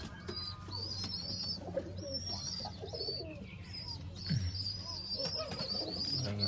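Pigeons coo softly in repeated low throaty phrases, mixed with occasional light chirps, a fairly quiet background flock heard from close range.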